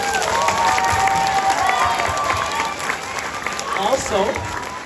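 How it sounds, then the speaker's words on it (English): An audience applauds and cheers for the parents at a school event, loud sustained clapping mixed with shouts and excited voices, rising again near the end. "So let's give our parents a round of applause."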